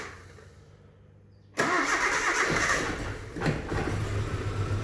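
A small old Suzuki engine with low compression and a cylinder miss catches at about 1.5 seconds and then runs loud and close, with a rough, uneven beat and no voices.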